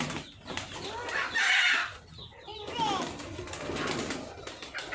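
Poultry at a farm in Bangladesh give shrill clucking and squawking calls in bursts, with some wing flapping, close by while people talk.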